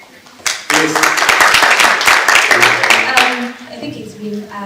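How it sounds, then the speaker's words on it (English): A crowd gives Dr. Liz a round of applause at a JKUAT MBChB class of 2022 medical school dinner: dense, loud clapping erupts, holds for about three seconds, then thins out as a voice continues. "So a round of applause to Dr. Liz."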